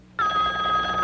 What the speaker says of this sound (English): Hey, this new car phone really works.